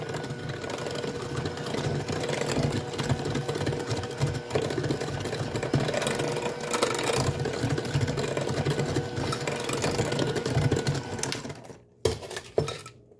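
An electric mixer running on low through cookie dough gives a steady, even motor whir that holds for about twelve seconds before cutting out, followed by a couple of brief knocks.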